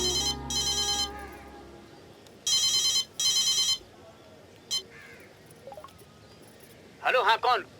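A telephone rings in short repeated bursts of bright, trilling bells, with quiet gaps in between. Near the end a few voice sounds join in.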